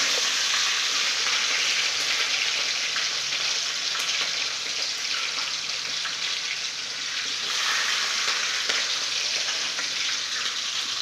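Mustard seeds, cumin, garlic and green chilli fry in hot oil with a steady, dense sizzle and crackle that holds throughout without pause or talk.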